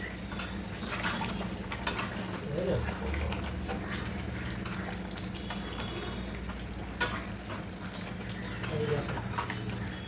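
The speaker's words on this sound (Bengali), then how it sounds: "ডিম ভাজা এগুলো কড়াইতে দিয়ে দেবো।" Fried eggs are stirred with masala in a wok, making a continuous low sizzle with scraping and occasional knocks, close by, with faint voices in the background.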